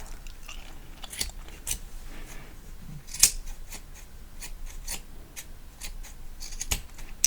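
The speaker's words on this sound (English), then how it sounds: "Just a couple more trims here" Scissors trim hair during a barber haircut roleplay, a close, quiet series of small snips and light shearing crunches, irregularly spaced and without speech.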